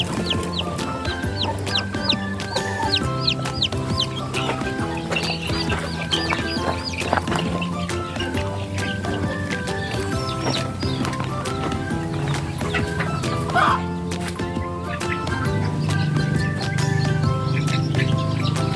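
A native hen and her newly hatched chicks on a farm, with continuous busy clucking and cheeping, loud and close, layered with other farmyard fowl.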